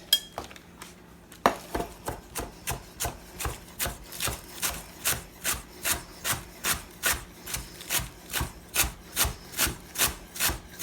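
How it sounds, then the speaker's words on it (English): A knife slices thin scallions on a wooden cutting board, a fast steady run of crisp chops, about two per second, close and clear, alone without talk. "Cut up some scallions."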